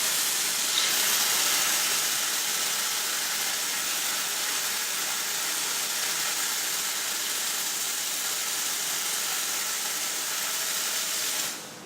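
An espresso machine's steam arm, opened for cleaning to purge milk residue, blasts a loud, continuous hiss of steam at close range for about twelve seconds before cutting off abruptly at the end.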